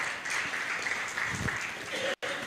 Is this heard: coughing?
no